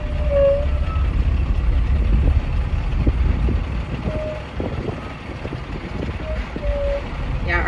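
A bus at a wildlife park in hilly country sounds intermittent reversing beeps over a low engine rumble and scattered knocks, the beeps spaced a second or two apart and moderately loud.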